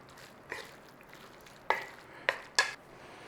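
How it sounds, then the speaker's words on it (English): Chicken curry sizzles quietly in a pan, a soft constant frying hiss broken by a few sharp scraping stirs of a utensil against the pan. "Got a nice little sizzle on there"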